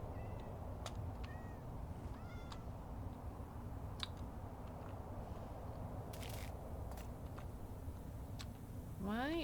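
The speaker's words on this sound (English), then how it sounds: "I put cats around to keep the creepers away." Cats meow several times over a steady hiss of background noise and game ambience in the Minecraft video game, with scattered ticks and clicks and a louder rising meow at the end.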